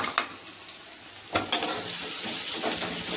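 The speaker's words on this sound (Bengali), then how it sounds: "এই পেঁয়াজটা এবার সুন্দর করে ভাজবো।" Onion sizzling in hot oil in a pan, a soft steady frying hiss with a few brief stirring clatters, close and moderately quiet, no voices.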